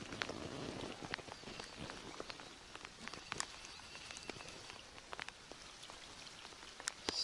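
Steady rain patters on a lakeside fishing spot in September, a continuous soft hiss with scattered sharper drops striking nearby surfaces, fairly quiet, with no voices.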